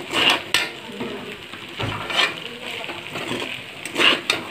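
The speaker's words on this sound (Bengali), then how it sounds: "হলুদ দিয়ে একটু নাড়তে থাকি" A spoon scrapes and clinks against a pan while flattened rice with turmeric is stirred, making close, irregular metallic scrapes with a faint sizzle underneath.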